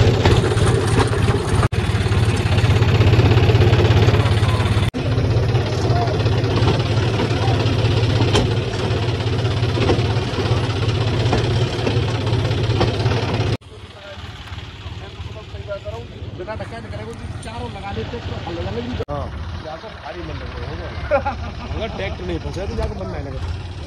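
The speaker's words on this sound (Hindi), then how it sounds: "पूरी रेस खुली हुई भाई अर्जुन की, तो 3-4 ट्रैक्टर लगे हुए हैं भाई" Heavy engines of three or four tractors run steadily with a deep, continuous rumble, close and loud, pulling a stuck, overloaded trolley while people talk over the noise.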